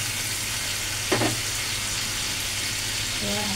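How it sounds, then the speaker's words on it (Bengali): Fried spice paste for a Bengali fish curry sizzling loudly and steadily in the pan, with a brief splash and surge as water goes in, then continued bubbling hiss; a faint voice enters near the end. "এবার আমি এর মধ্যে পরিমাণ মতন জল দিয়ে দিলাম।"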